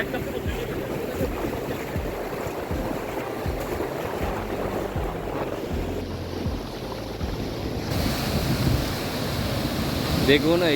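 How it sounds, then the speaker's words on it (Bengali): Sea waves rolling in at Bagda beach in Odisha, a continuous broad rush of surf mixed with wind noise buffeting the microphone, steady throughout and swelling slightly louder toward the end. "সমুদ্রের ঢেউ বাগদা বিচের বাগদা বিচের ঢেউ দেখুন"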